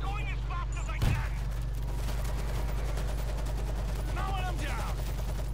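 Rapid machine gun fire in a zombie shooter game, a steady dense rattle of shots running continuously under a loud constant drone, with brief voice sounds near the start and end.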